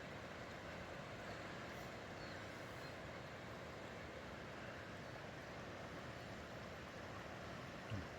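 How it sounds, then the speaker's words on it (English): Steady broadband rush of a river flowing, constant and unbroken throughout, running nearby with no voices. "And all we heard all night was this, the river."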